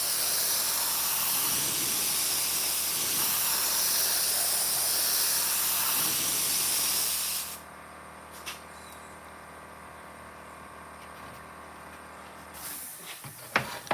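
A spray gun hisses in a long continuous broadband blast while painting fender skirts for a 1960 El Camino, then cuts off into quieter room tone with a few small knocks and handling clicks.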